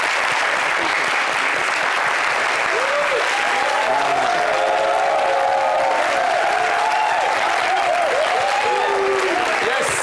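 A television studio audience applauds loudly and continuously, a steady wash of clapping with some cheering and voices rising within it.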